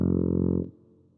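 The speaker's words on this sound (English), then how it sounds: "Cool! You found the tuba." Low brass tuba note from the Lamb Chop Loves Music PC game, a single sustained loud blast lasting about two-thirds of a second before cutting off to a faint tail, heard alone.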